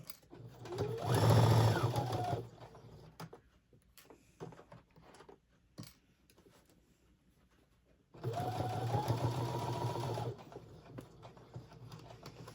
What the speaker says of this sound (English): I'm going to sew straight across here.